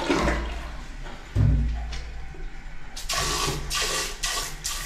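A toilet flushes in a newly fitted bathroom, water rushing loudly and then refilling with bursts of gurgling over nearly five seconds, heard close up with no talk.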